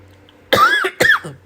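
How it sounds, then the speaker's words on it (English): Two harsh, close coughs in quick succession from one person, each a sharp burst followed by a brief gap, against a quiet indoor background. "I'm never gonna stop coughing"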